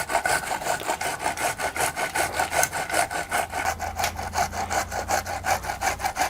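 Tomatoes being grated by hand on a kitchen grater, a steady rhythmic rasping scrape about three strokes per second, close and fairly loud, without any talking.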